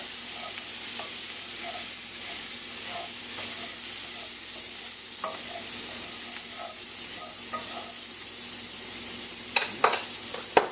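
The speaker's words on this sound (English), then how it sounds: "we're scraping and getting all that flavor and all that flour off the bottom of the pan" A utensil scraping flour and browned bits off the bottom of a hot pan, with a continuous sizzle underneath and scattered scrapes and taps, growing sharper near the end.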